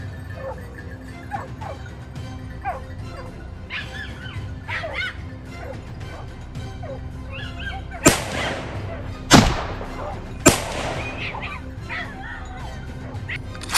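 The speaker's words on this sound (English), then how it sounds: "the hounds barked loudly from the bushes below" Hunting hounds barking at wild boar on a mountain slope, repeated yelps and barks from below in brush, with three loud sharp bangs like gunshots near the end.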